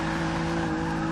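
A Rolls Royce drift build in Forza 6 holds a steady, loud engine note while its tires squeal through a slide, one continuous burst with no voices.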